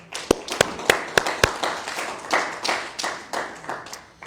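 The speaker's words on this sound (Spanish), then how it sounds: "Un aplauso al Señor" A church congregation claps after a seminary class, with a few sharp, distinct claps at first, then scattered, uneven clapping that is moderately close and fairly quiet.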